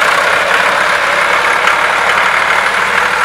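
A Millat 375 tractor's diesel engine runs steadily nearby, a loud, even rumbling drone that holds constant throughout the short stretch without talking.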